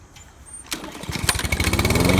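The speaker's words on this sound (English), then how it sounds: "so you use a gas-powered lawnmower." A gas-powered lawn mower starts with a sharp catch, then runs up to a loud, rough, pulsing engine drone that keeps building.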